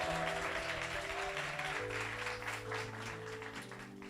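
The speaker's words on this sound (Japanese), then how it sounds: "じゃあ大きな拍手で歓迎しましょう" Congregation applause welcoming a visitor at a church service, soft steady clapping heard fairly quietly beneath a sustained organ or keyboard chord pattern.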